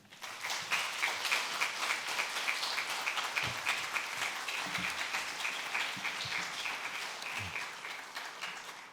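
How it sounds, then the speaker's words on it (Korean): A church congregation at an early-morning revival service claps to welcome the guest pastor, with steady, moderately loud applause running for nine seconds and a few low thumps underneath. "박수로 우리 목사님을 모시도록 하겠습니다"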